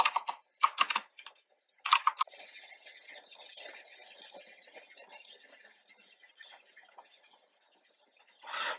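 Typing on a computer keyboard, close and clear: a few sharp clusters of key clicks, then a long run of rapid, steady keystrokes, ending in a short louder burst.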